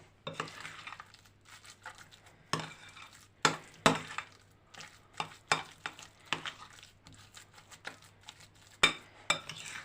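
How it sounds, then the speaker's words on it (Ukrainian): Egg is worked into thick choux pastry dough, making repeated wet slapping and scraping strokes of a spoon against the bowl in an uneven rhythm, close and fairly quiet. "І помаленьку вмішуємо в це тісто яйце"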